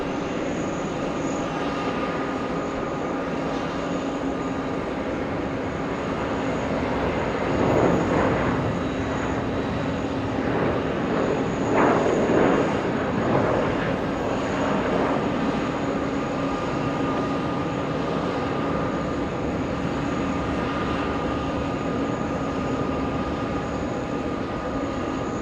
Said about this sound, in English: Delta 2276 heading to Miami, Florida. That's a